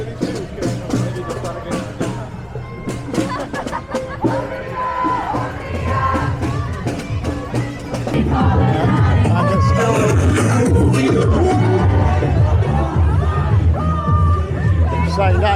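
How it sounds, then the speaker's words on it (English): A big crowd at a Palestine march in Westminster, London, a loud, dense babble of many voices with shouts and whoops that swells into a steady roar, close around the listener. "So now get caught up in a big crowd here."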